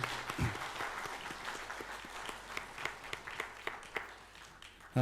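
A church congregation at a Sunday worship service gives quiet, scattered applause that fades into sparse individual claps, recorded at low level in a reverberant hall.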